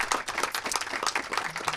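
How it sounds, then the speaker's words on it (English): Audience applause for two guest speakers at the close of a filmmaking talk, dense and steady from start to end with many hands clapping fairly close. "Big round of applause."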